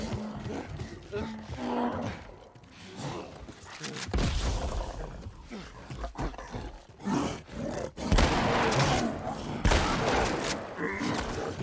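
Gunfire bursts and creature roars in the video game The Last of Us Part 1, loud sharp shots scattered through the stretch, with someone talking excitedly over the action.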